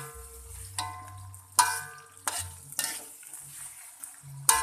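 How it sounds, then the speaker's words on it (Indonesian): Nasi goreng spice paste sizzles and fries in a pan, with soft steady crackling broken by several sharp scrapes and clinks of a utensil stirring against the pan. "kita goreng bumbu nasi goreng ampoknya"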